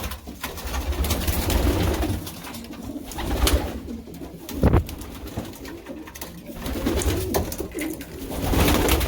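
Pigeons cooing inside a pigeon loft, soft murmuring calls blending into a continuous close chorus over a dense, noisy room background with occasional rustles and knocks.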